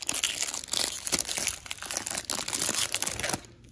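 Plastic wrapper on a Donruss basketball card hanger box being torn open, a dense run of close, loud crinkling and tearing lasting a few seconds before dropping away at the end.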